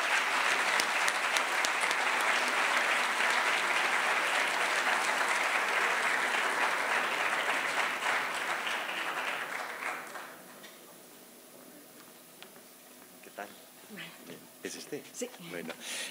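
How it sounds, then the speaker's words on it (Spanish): Loud audience applause at a concert welcome, a dense sustained clatter of many hands for about ten seconds that then thins into scattered claps and small noises as the room quiets. "Con un fuerte aplauso."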